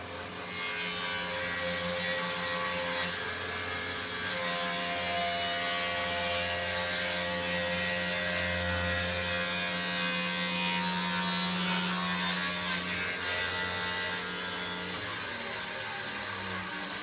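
A table saw cuts a wooden toy chest box pushed along the fence, giving a steady loud whine with a humming motor tone that continues unbroken throughout.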